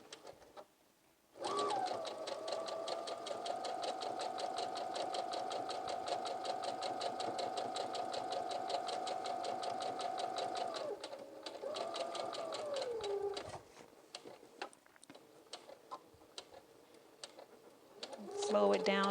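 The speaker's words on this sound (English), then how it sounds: "I have attached my 1/4 inch foot on my Baby Lock Soprano" A Baby Lock Soprano sewing machine with a 1/4 inch foot stitches along a folded skirt edge in a steady, close, rapid whir, slowing around a curve and then stopping, with quiet talk in between.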